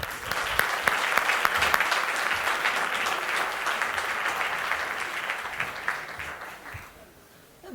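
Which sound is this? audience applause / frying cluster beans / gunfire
audience applause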